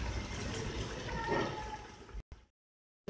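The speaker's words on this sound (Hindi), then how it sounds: "तो हम इसमें पानी डाल के रख देते हैं।" Water pours into a pot of browned beef with tomatoes for beef pulao, a steady splashing, gurgling fill lasting about two seconds before stopping abruptly, with some faint background noise underneath.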